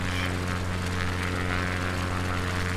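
Steady, loud drone of a propeller aircraft engine in Microsoft Flight Simulator 2020 on a Patagonia bush flight, a constant buzzing hum with strong tonal harmonics, little change in pitch across the span, no talking.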